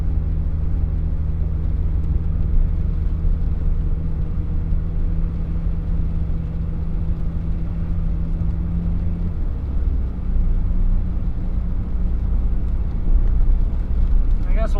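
Steady road rumble and engine hum from a car driving along, a constant low drone with a slight shift in tone partway through, heard from inside with no talking.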